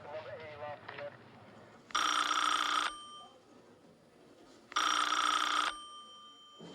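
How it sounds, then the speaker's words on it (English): A telephone rings twice in long, loud electronic bursts with a quiet gap between them. A voice is heard before the first ring. "Just answer the phone"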